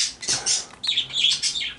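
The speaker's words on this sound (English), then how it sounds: "Whenever my birds hear me talk, that's when they decide they need to make more noise than me." Pet birds squawk and chirp indoors in a rapid run of shrill, close calls that rise and fall almost without pause.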